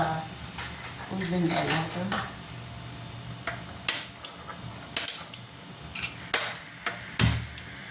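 Spice tempering for an aubergine, potato and tomato dish sizzles on full gas, with repeated sharp scraping and clattering of a spoon against the pan over the frying hiss.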